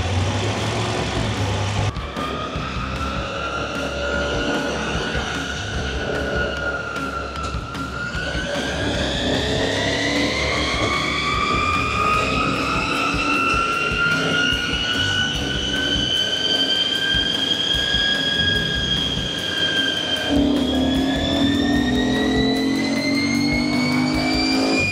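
A QJ Motor SRT900 SX motorcycle engine runs on a dyno during ECU remapping, a loud steady drone whose pitch rises slowly through the run, dips, then climbs again near the end.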